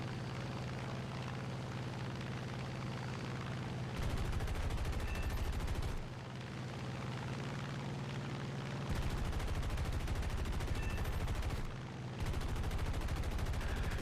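An F6F Hellcat's machine guns firing in War Thunder arcade aerial combat: two loud sustained bursts of rapid gunfire over a steady aircraft engine drone.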